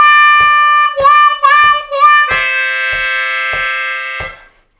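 On a C harmonica, a lick starts with a few quick, wavering notes and settles into a long held chord that fades at the end, played solo up close.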